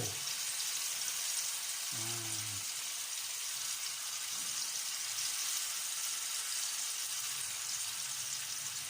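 Tofu frying in oil in a pan to crisp it, a steady hiss of sizzling throughout, with a brief low hum of a voice early on.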